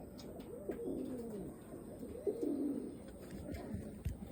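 Domestic pigeons cooing close by, a couple of low, rolling coos repeated over a few seconds with no talking.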